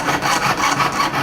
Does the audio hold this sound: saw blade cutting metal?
yes